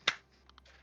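A single sharp hand clap, brief and crisp, fairly close and alone, followed by a faint quiet tail.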